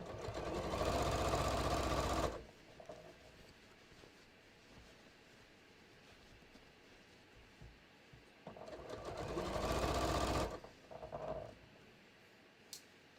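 A sewing machine stitches belt loops onto the waist yoke of a pair of jeans, running in two loud, steady bursts separated by a quieter pause with faint handling sounds.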